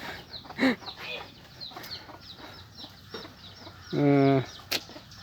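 Chickens clucking around a cattle yard: faint scattered chirps and clucks, then one clearer, drawn-out call near the end, with no talking.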